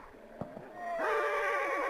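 A horse whinnies loudly in Hunt: Showdown, a long, wavering neigh that starts after a few soft thumps and holds to the end.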